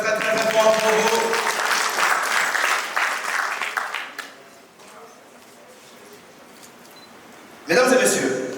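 Audience applause at a business summit, a dense burst of clapping for the first four seconds that drops away to near quiet, then returns briefly at the end.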